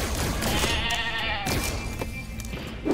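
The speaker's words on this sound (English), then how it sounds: "Where did that sheep noise come from? Where is there a sheep?" Sheep bleating inside the horror game FNAF Help Wanted 2, a loud, wavering bleat over a dense, noisy game soundscape, with a brief vocal sound near the end.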